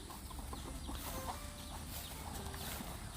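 Soft, low clucking of chickens on a farm in Kapoe, Ranong, Thailand, mixed into a noisy outdoor background, faint and fairly continuous.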